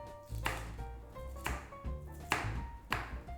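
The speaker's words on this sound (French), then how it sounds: "Nous pouvons couper les poivrons." A knife chops bell peppers on a board in a steady run of sharp, close taps, roughly one every half second, with no talking.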